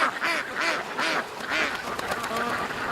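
Geese and ducks quack and honk in a repeated, rhythmic series close by, their calls nearly continuous under a strong, gusty north wind that buffets the microphone.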